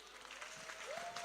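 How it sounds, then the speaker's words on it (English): An audience at an annual conference applauds a panel speaker, a dense steady wash of many hands clapping from across the hall, with a faint tone running underneath. "A round of applause again for our panel speaker"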